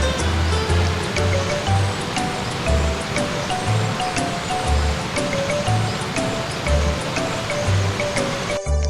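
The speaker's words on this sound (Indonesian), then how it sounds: "sambil mendengar derusan suara air sungai" A river at night flows with a continuous broadband rush of water, while repeating tonal chirps pulse in a regular rhythm over the top.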